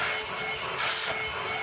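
A Bush cordless stick vacuum cleaner runs on high power, giving a steady, loud whooshing whine of airflow close by for a short stretch.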